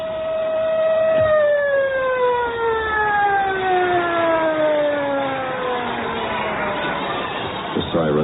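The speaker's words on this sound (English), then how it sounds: "The siren moaned to stillness, but there was no peace." An air raid siren in a radio drama about atomic attack, a loud wailing tone that slowly descends in pitch and moans down to stillness over several seconds, with no voices.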